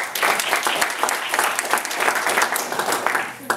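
An audience at a real estate investing seminar claps together for a few seconds, a dense and fairly loud round of applause in an indoor room.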